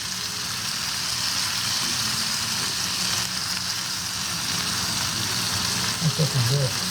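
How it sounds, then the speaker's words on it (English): Steady, dense sizzling of honey garlic salmon frying in a pan fills the whole stretch, with a brief low murmur near the end. "You hear the sizzle."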